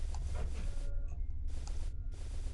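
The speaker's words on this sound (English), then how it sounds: "my printer is defaulting. And is going to make loud noises." A home printer running loudly, bursts of broadband mechanical whirring separated by brief quieter pauses with faint tonal clicks, close and steady.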